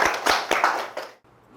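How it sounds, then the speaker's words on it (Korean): A few people clap at a neighbourhood residents' general assembly, with several distinct, close hand claps landing in quick irregular succession before stopping abruptly into near quiet. "박수."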